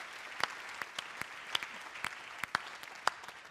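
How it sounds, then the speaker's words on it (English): A small conference keynote audience claps, with scattered distinct hand claps over a soft continuous patter, fairly faint and distant. "A massive round of applause for QuickCheck."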